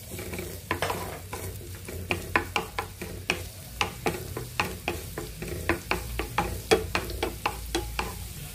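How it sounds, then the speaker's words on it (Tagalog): Garlic sautéing in cooking oil in a home kitchen pan, a low sizzle under a steady run of sharp scraping and tapping strokes from a utensil, repeating roughly every half second, close and fairly loud. "Igisa ko na ang bawang"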